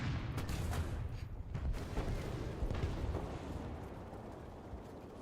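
Distant gunfire rumbles in a series of muffled booms and thuds, irregular and blurred together, fading toward the end.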